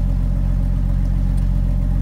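A 1982 Ford F150 engine runs with its exhaust broken right after the manifold, giving a loud, low, throbbing drone with a steady pulsing rumble, close up and continuous.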